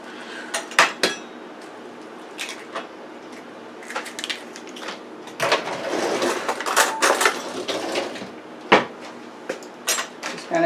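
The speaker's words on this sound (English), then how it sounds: "Just going to beat the egg up" Clattering kitchen noises of an egg being beaten in a bowl for a baked stuffed spinach meatloaf, with irregular clinks and scrapes, a busier stretch of rapid tapping in the middle, and a few sharper knocks.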